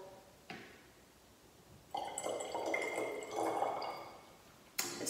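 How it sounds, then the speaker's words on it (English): Water trickles and pours into a glass bottle being tuned as a musical note, faint at first, then a couple of seconds of gurgling fill with rising pitch and a light clink at the end. "let's add a bit more water to number four"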